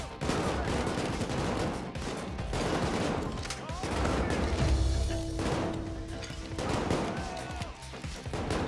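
Sustained light machine gun fire in the heist shooter Payday 2 rattles on almost without pause, loud and dense, mixed with other weapons and impacts in a chaotic firefight.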